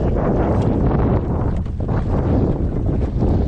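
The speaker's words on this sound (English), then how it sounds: "the wind's just started in a nasty little storm out here" Strong wind from a pop-up storm on open water roars and buffets the microphone in heavy, continuous gusts, with rushing turbulence and no voices.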